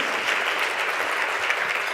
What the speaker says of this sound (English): Give yourselves a massive round of applause right now, ladies